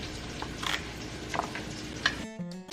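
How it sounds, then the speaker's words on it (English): Beef searing in a hot pan for a summer beef soup gives a steady, close sizzle with a few sharp clinks of stirring, then cuts off into a brief, different tonal noise at the end. "While the meat is searing"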